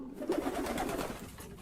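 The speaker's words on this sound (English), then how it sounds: "the pigeons let go a combined call and said to each other" Several pigeons give a combined cooing call, a steady, fairly close murmur of soft repeated coos running throughout without speech.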